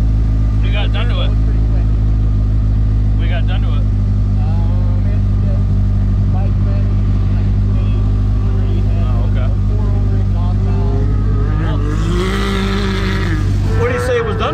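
A tuned UTV engine with cams and exhaust revs steadily with a deep rumbling tone and rises near the end, while people talk over it.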